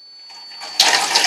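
Water poured into a planted aquarium tank: a faint trickle builds, then a loud, close splash and gush starts partway through and keeps running to the end, with no voices.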